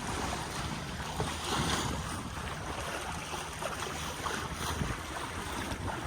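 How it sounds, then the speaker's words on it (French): Steady wind noise and washing waves aboard a sailboat at sea off Skiathos and Skopelos in Greece, in about 12 knots of wind, a continuous broadband rush with no talk. "Voilà, 12 nœuds de vent."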